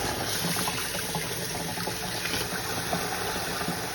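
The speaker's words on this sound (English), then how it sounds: "So as I let the water run on the rice" Tap water runs continuously over rice being rinsed in a draining pot, a steady, close, fairly loud rushing and splashing with no voices.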